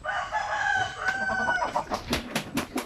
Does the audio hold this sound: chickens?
yes